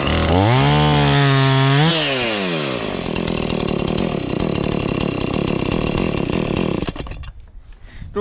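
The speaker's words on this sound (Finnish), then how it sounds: "Tuo on kyllä hyvä saha hintaisekseen tuo Husqvarna 445" A Husqvarna 445e chainsaw rises in pitch as it revs, then bites steadily and loudly into a thick log for several seconds before cutting out abruptly.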